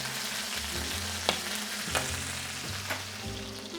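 Peri peri chicken browns in a hot pan with a close, steady, hissing sizzle, broken by a few soft clicks of stirring or turning, with no voices.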